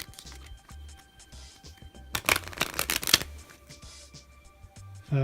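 A deck of playing cards being shuffled by hand: one quick, crisp riffle burst of about a second, close and loud, set between quieter stretches of faint handling noise.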